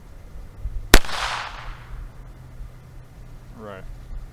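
A single loud gunshot fired at Cerberus zombie dogs in Resident Evil 2 Remake: one sharp crack with a short fading tail, then quiet game ambience and a brief faint whine near the end.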